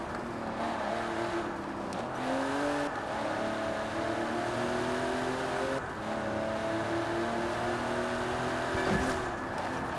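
A GMC Syclone pickup in the racing game Forza Horizon 4 drives with a steady, continuous engine drone, its pitch climbing through several rising gear sweeps, loud and close, with no talk over it.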